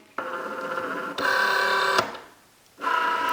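A Cricut Joy cutting navy blue card whirs in three short motorized bursts, with a brief quiet pause before the last. The sound is close and moderately loud, with no talking.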